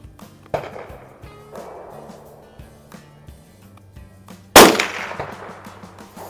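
Several sharp, fairly soft gunshots from a Squires Bingham Model 15 .22 Magnum rifle firing low velocity rounds at a range, spaced a second or so apart, followed by one much louder, close bang with a short ringing tail.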